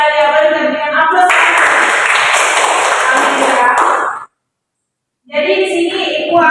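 A classroom gives a burst of applause, several seconds of dense clapping that stops abruptly. Speech comes before it and a voice resumes after a short silence.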